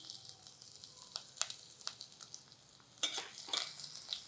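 Thinly sliced ginger and garlic frying in a pan for a mixed vegetable soup, a faint steady sizzle with a few light clicks and scrapes of stirring, close by and quiet.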